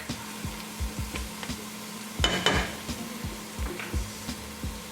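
Onions and garlic hit hot liquid in a pot for a Jamaican oxtail stew, giving a low sizzle under a run of regular knocks and clinks of a utensil against the pot, with one louder clatter midway.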